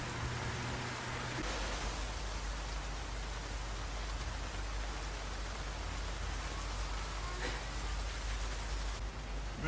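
Steady rain pours throughout a scene from the TV series Dark, a dense, even hiss of falling water on surfaces, loud and continuous with no voices over it.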